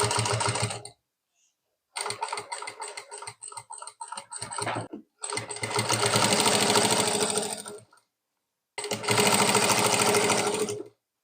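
A sewing machine stitches a belt onto a saree in four bursts of rapid mechanical whirring, slowing over the thick layered fabric, separated by short silent pauses, close and clear.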